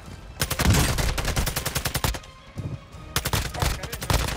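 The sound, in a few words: gunfire in video game Modern Warfare 2 DMZ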